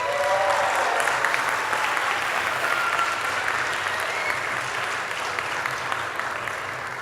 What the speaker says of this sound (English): can everyone give them a loud round of applause,